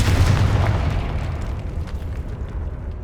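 A loud booming fire-blast explosion from the Confringo spell in Hogwarts Legacy, with a heavy low burst at the start that rumbles and decays over a few seconds.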